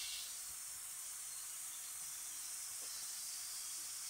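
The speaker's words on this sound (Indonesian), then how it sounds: "Tumis tumis kering aja ya, tidak usah kasih air." Vegetables stir-fry dry in a pan without added water, making a steady, fairly quiet hiss and sizzle with a faint scrape or two.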